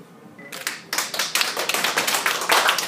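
Audience clapping in a room after a poem reading, starting with a few scattered claps and building into dense, steady applause that grows louder and fuller, with no talking.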